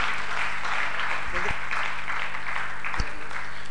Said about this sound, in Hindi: जोरदार तालियां के लिए बजाएं आप